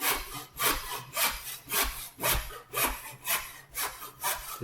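A hand saw cuts the waste off a decorative wooden top piece for a picture frame, about ten even back-and-forth strokes in a steady rhythm, close and clear with no talking.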